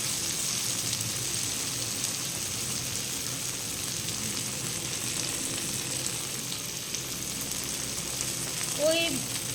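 Steady, fine sizzling of ginger, garlic and chili paste frying in hot oil, an even crackle running throughout with a brief clink near the end.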